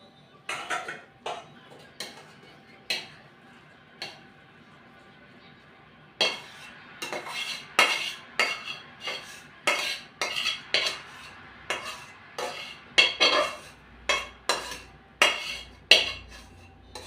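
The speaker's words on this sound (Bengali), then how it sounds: "এবার আমি বাঁধাকপি তরকারিটা ঢেলে নেব।" Cabbage curry is spooned from a cooking pan into a large bowl: close, sharp metal clinks and scrapes, sparse at first, then coming in a quick, steady rhythm, with no talking.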